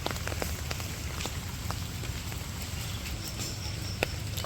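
Steady rain pours down in the morning, a dense, even hiss with scattered drops pattering on nearby surfaces, and no voices present.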